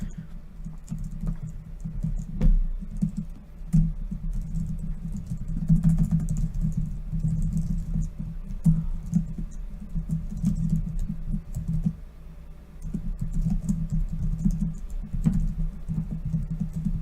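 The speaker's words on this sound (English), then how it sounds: "you're going to hear typing for a second" Typing on a computer keyboard goes on steadily for several seconds: soft, rapid clicking taps in irregular bursts, close and fairly quiet, over a low background hum.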